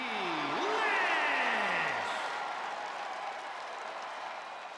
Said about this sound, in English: As you listen to that crowd going crazy